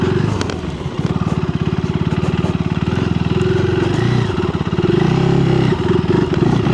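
A 2025 KTM 390 Enduro R single-cylinder motorcycle ridden off-road in street mode, its engine chugging close and loud in a steady rapid pulse that surges and bogs several times, with no talk over it.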